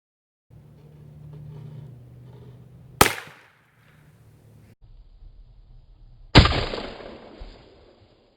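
A .22 Long Rifle round fired point blank into a 12-ounce bottle: two sharp, loud cracks a few seconds apart, each ringing briefly before dying into a low background rumble.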